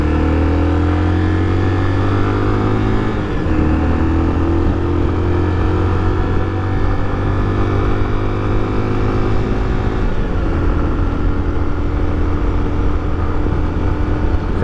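A 2013 Honda XRE300 motorcycle carrying a rider and passenger cruises on smooth asphalt, its engine droning loudly and steadily, with wind rush and a couple of brief pitch dips as gears shift.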